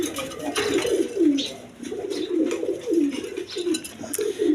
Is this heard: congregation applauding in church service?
no